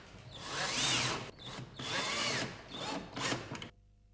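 Power drill driving screws into a kitchen cabinet during assembly, heard as three or four bursts of whirring motor with brief pauses between them, close and fairly loud, with no talking.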